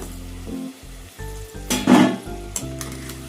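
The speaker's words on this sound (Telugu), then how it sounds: "ఇలా మంచి కలర్ వచ్చేదాకా ఫ్రై చేసుకోవాలి" Cabbage manchurian balls deep-frying in hot oil, a steady close sizzle with bubbling bursts and a brief louder rush of spattering midway as they are stirred or lifted, no voices.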